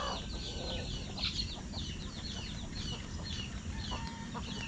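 Chickens and many chicks cluck and peep continuously on a farm, a busy chorus of chirps and clucks at moderate distance with steady low background rumble.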